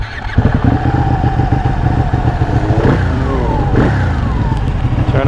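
A Ducati Panigale 1199 motorcycle with a new clutch slave cylinder roars loudly on a test ride, its engine revving up and down through gear changes with rough, throbbing exhaust close by.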